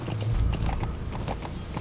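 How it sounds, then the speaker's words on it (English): D-Horse galloping in Metal Gear Solid V: The Phantom Pain, a steady rapid clip-clop of hooves near and loud over low rumbling game ambience, with no talk. "If you want D-Horse to move as fast as possible"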